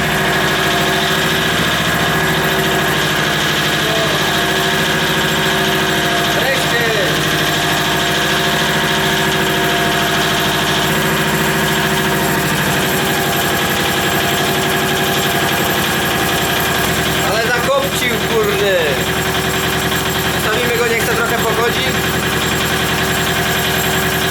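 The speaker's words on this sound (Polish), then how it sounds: "wykorzystam, że traktorek jest zapalony" A small tractor engine idles steadily at close range, a constant mechanical drone with faint rattling and vibration, no voices.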